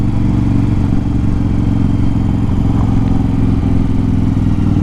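A motorcycle engine idles close by with a steady, loud low-pitched rumble and light mechanical clatter, running continuously with no talk.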